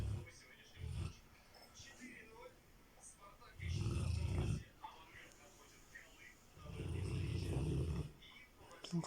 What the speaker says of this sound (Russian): Как мужик храпит.